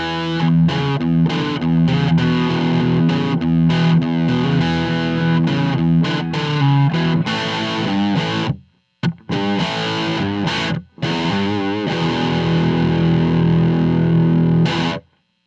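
Distorted electric guitar through an amp, close-miked with an SM57 placed 1.5 inches off axis for a warmer, softer top end; loud, continuous chugging riffs with two brief dropouts near the middle, no talking.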